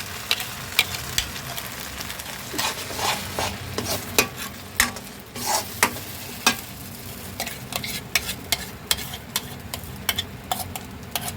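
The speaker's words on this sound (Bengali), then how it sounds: "এটাকে ভালো করে একটু তেলের সাথে ভেজে নিতে হবে যাতে কাঁচা গন্ধটা না থাকে" Ginger, green chili, cashew and tomato paste fry in oil, giving a constant sizzle. Frequent loud scrapes and taps of a spoon stirring against the pan run through it, and no one speaks.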